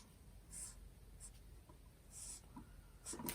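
A pen writing on paper, scratchy strokes in short bursts separated by pauses, close and quiet with no talking.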